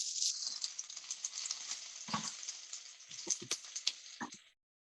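Onions fry in hot oil with bay leaves, giving a close, crackling sizzle peppered with sharp pops and spatters. The sound stays busy throughout, then cuts off abruptly near the end.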